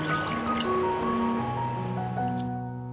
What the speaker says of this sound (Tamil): இப்போ இதில் நாம் எடுத்து வச்சுருக்கிற அந்த மட்டன் வாட்டர் ஆட் பண்ணிடலாம்